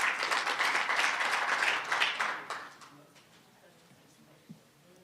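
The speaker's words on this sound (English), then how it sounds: "Can we give him another round of applause?" A crowd at a voter register release event claps loudly for a couple of seconds, then the applause fades out into a quiet room, with a faint knock near the end.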